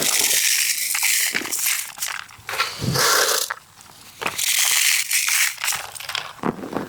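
Dry crunching and crackling of roasted horse gram being crushed, in repeated bursts, close and fairly loud, with brief pauses between.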